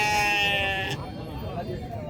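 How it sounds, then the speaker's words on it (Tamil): Sheep bleating at Orappam goat and sheep market, a loud sustained bleat in the first second followed by a noisy crowd murmur of voices and livestock. "இல்லை செம்மறி ஆடுங்க."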